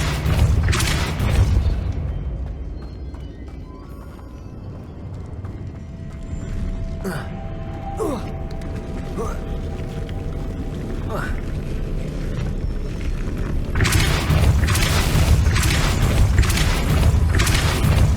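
In Hogwarts Legacy, a spell sets a mechanism spinning, giving a low rumbling whir with scattered clanks and booms that swell toward the end, heard under game music and effects.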